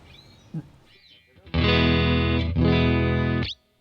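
An electric guitar chord on the neck pickup of a Fender Player II guitar strummed twice, warm and sustained with a slightly overdriven tone, after a few soft pick and string noises.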